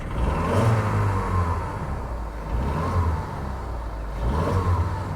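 A Seat Leon engine turns over with a noisy starter and settles into a slightly tappy idle, its tone swelling and dipping a few times, close by and with no talking.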